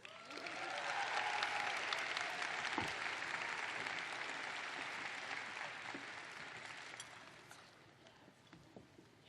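Sustained applause from a large audience at a nursing school pre-commencement ceremony honors the graduates, a dense wash of clapping that swells early, holds steady and slowly fades.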